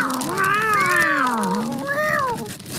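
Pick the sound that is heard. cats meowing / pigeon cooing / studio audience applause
cats meowing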